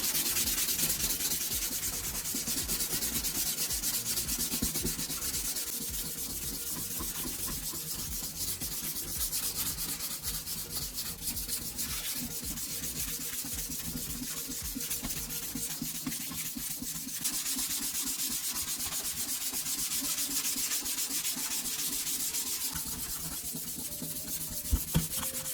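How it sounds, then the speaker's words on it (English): Wet sanding of a foggy plastic headlight lens with 1200 grit sandpaper, a steady rough rubbing in even back-and-forth strokes that stays close and continuous throughout, with no talking. "I take a sheet of 1200 grit sandpaper and lightly wet it. I work it across the lens using steady,"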